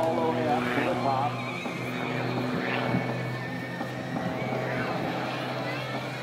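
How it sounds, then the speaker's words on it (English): Aerobatic airplane's engine and propeller during an airshow stunt, a droning tone that rises and falls as the aircraft rolls and climbs, mixed with a commentator talking over a public address system. "Gonna let the torque of the engine and the prop keep the airplane turning."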